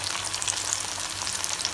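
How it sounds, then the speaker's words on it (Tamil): Cubes of elephant foot yam fry in hot oil with a dense, steady crackling sizzle, close and constant with no talking. "எண்ணெயில் போட்டு கொஞ்சம் கொஞ்சமாக அப்படியே பிரித்து விட்டுருங்க"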